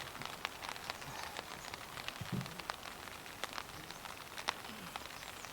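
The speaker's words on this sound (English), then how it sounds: "it is really raining out here" Steady rain patters on a surface, with scattered sharper drops tapping close by and a soft low thump partway through; no one speaks.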